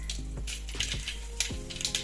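Mustard seeds pop and spit in hot oil, small crackles against a steady background hiss, coming in quick, irregular bursts from close by.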